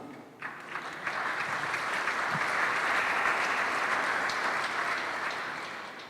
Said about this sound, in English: I thought somebody would clap.